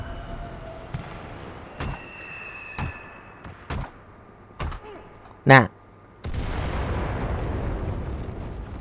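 Bombs explode on a base in a video game: a series of sharp, separate blasts rings out roughly every second, one especially loud, before a sustained roar of noise takes over at the end.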